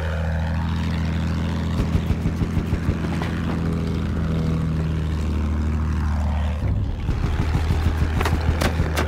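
A propeller plane in Battlefield 1 drones steadily with a low engine hum throughout, with a brief shift in tone partway through and light clicking sounds over it.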